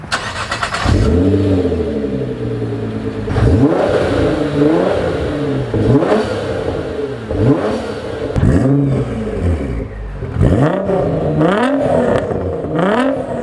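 A Nissan GT-R sports car engine revs repeatedly up close, each throttle blip climbing and falling in a loud, rhythmic series of roaring surges.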